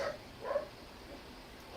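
Dog barking outside, a few faint, distant barks spaced apart, heard through walls.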